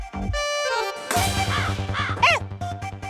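Crows caw in harsh, overlapping calls that build into a busy cacophony, loud and close, heard alone without speech.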